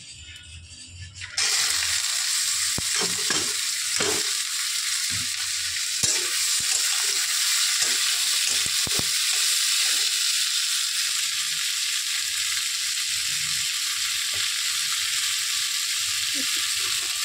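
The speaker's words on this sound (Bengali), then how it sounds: "এখানে তেলটা আমার গরম হয়ে গেছে, আগে ভাজাটা বসিয়ে দিই।" Ingredients dropped into hot oil for a mocha (banana flower) dish with hilsa fish head burst into a loud, steady sizzle that carries on unbroken after a quieter opening, with scattered clinks and stirring knocks underneath.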